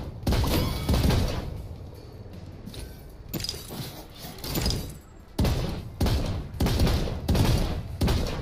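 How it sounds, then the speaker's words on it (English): In a video game, a weapon-swap bug makes a single gun fire multiple shots at once. The sharp gunshots come in irregular clusters of loud, close bursts over faint background noise, with brief pauses between volleys. "It looks like it's shooting multiple shots, right?"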